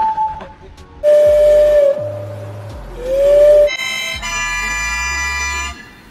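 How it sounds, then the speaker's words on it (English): A walrus gives a long, steady whistle that holds a pitch, dips and rises, then gives way to a bright, buzzy, harmonic whistling tone, fairly loud with no talking. "Did you know walrus can whistle?"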